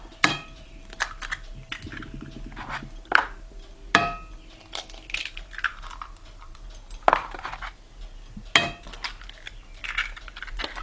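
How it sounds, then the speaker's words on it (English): Farm fresh eggs cracked over sardines in a pan, heard as a series of sharp taps and clinks against cookware spread across a quiet background. "then I'm gonna crack a bunch of eggs over them"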